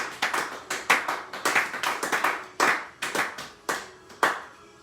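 Congregation clapping in rhythm at a prayer service to acclaim the Lord, steady crisp claps of many hands at a brisk even pace, close and fairly loud with no talking.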